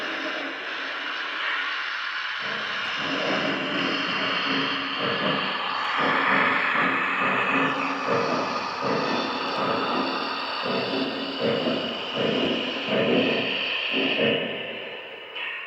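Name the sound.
Lionel Union Pacific 4014 Big Boy model locomotive running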